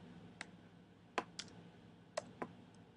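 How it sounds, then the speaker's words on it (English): Five or six isolated keystrokes are tapped on a computer keyboard, sharp close clicks spaced irregularly over a quiet room hum. "So we're going to type that in."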